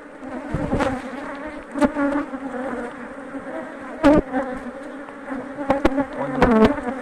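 Strong honey bee colony buzzing loudly and close at an opened beehive, a dense continuous hum with individual bees swelling past in louder bursts, no voices.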